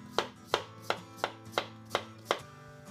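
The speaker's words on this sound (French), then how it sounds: "Sur ma planche, je coupe mes pommes de terre en rondelles assez fines." Seven crisp knife chops slicing potatoes thinly on a cutting board, evenly spaced in a steady rhythm, close and clear with a faint background hum.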